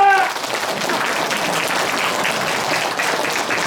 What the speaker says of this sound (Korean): 큰 박수로 환영해 주시면 정말 감사하겠습니다.